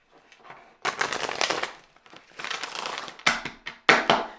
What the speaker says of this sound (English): let's give those a quick shuffle